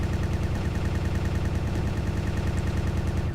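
Rapid machine-gun cannon fire from a spaceship in the space game StarMade, a dense, continuous stream of fast repeating shots at steady loudness throughout.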